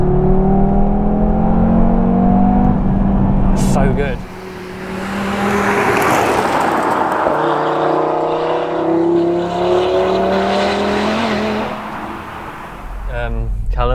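An Audi TT RS engine revs hard and accelerates close by, its loud rising and falling pitch sweeping up repeatedly, with a brief dip midway and voices talking over it.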